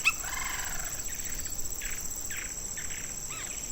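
A lineated woodpecker calls in a series of short, evenly spaced notes, faint to moderate at some distance, over a background of insect hiss and a high steady whine.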